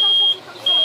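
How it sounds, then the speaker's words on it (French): A turn signal buzzer in a bus being converted into a camper gives a steady high electronic beep that breaks off briefly and then resumes, loud and close, with voices faintly behind it. "faut voir si ça si on bip"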